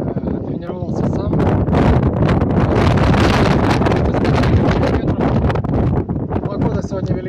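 Loud wind buffeting the microphone in heavy rumbling gusts, with a voice faintly audible underneath.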